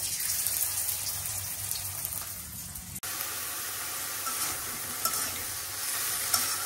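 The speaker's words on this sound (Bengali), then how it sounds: "এই আতপ চালের গুঁড়া আর লবণ আর হলুদ দিয়ে বড়াটা ভেজে নেই" Banana blossom fritters in rice flour batter with salt and turmeric frying in hot oil, a steady close sizzle with bubbling crackle and a sharp click near the middle, no voices.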